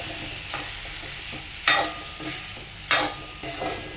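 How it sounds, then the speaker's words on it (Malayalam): Crumbled paneer curry being stirred in a frying pan for masala dosa filling: a continuous sizzle overlaid with rhythmic scraping strokes of a spoon, two sharper scrapes standing out, close and fairly loud with no talk. "ഇനി നന്നായി മിക്സ് ചെയ്ത് കൊടുക്കാം."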